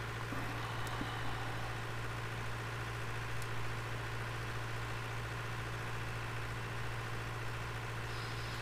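Small tractor idling in Farming Simulator 2013, hitched to a corn cart: a steady low engine drone holding an even, continuous rumble throughout with no talk over it.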